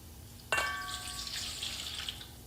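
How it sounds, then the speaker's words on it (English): Water, about one and a quarter cups, is poured into a bowl, starting with a sudden splash that settles into a steady trickling pour. No one speaks. "We need to get 1 1/4 cup of water and put it in."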